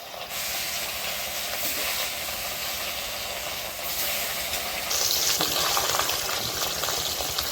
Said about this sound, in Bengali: মাছগুলো এখন ভেজে নেব।